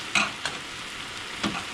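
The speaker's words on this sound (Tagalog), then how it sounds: "stir fry" Broccoli, carrots, mushrooms and tofu stir frying in a hot pan give a steady close sizzle, with a few sharp scraping stirs of the spatula against the pan.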